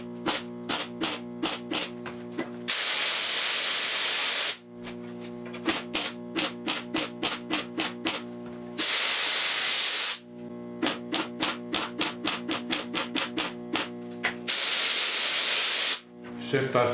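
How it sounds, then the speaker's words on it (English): MIG welding of new metal to old steel on a 1972 Triumph GT6 quarter valance: bursts of crackling, hissing arc that stop and start, interleaved with regular, evenly spaced short tacks, close and loud. "just gonna weld it outside first, then inside, then grind it"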